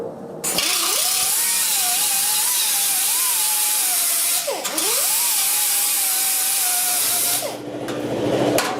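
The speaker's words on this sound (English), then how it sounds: "I'm going to try to grind this for this disc" An angle grinder disc grinds rusted metal on a 1969 Chevrolet C10 core support, a loud close whine with a wavering pitch that dips sharply midway, then cuts off near the end.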